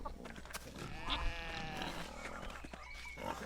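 Sheep in the game Pentiment give a wavering, drawn-out bleat, faint and close, over a low steady background hum, followed by a shorter second call.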